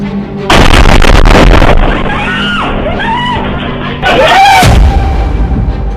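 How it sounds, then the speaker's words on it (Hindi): Bomb blast in Tel Aviv, a sudden loud explosive roar that bursts in, eases, then hits again, with wailing siren-like tones and shouting voices in between. "इजराइल की राजधानी तेल अवीव में फटा बम।"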